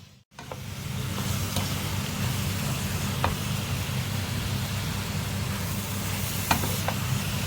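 Ground beef for lasagne sizzles steadily in a pan, a constant close frying hiss with a few faint clicks and no talking.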